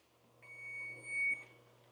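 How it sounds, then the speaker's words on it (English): A kitchen timer for purple cauliflower roasting in the oven beeps faintly, a thin high electronic tone held for about a second in a quiet kitchen with no one talking. "that's our timer for the cauliflower"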